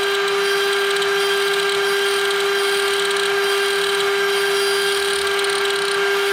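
Rotary tool spinning a Rescue Bit at 24,000 RPM, a loud continuous high-pitched whine with a steady tone and no pauses, close up and alone without speech.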